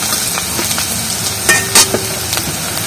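Onion and spices frying in a pan, a steady close sizzle with a few soft stirring scrapes and taps, no voices.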